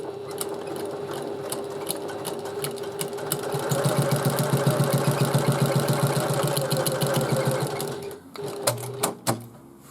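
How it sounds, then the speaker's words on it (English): A sewing machine stitches bag panels together at a quarter-inch seam, a close, steady, rapid needle chatter that speeds up midway, then stops with a few clicks and thumps at the end, no talk. "we stitch these at 1/4 inch seam allowance"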